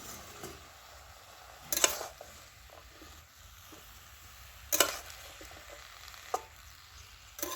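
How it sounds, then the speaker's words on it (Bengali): Greens with a little salt sautéing in a pan over a clay wood-fired stove. A soft, steady sizzle runs throughout, broken by a few sharp clanks of a utensil stirring against the pan. "শাকটা একটু নুন দিয়ে এখানে একটু সাঁতলাতে দিয়েছি"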